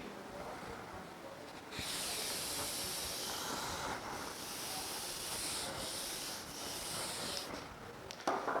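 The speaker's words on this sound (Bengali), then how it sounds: "এটা আশা করি লেখা হয়ে গেছে, মুছে দিচ্ছি" A duster or eraser wipes writing off a classroom board in a steady, continuous hissing rub lasting several seconds, with brief pauses between strokes, close and fairly loud, and no talking.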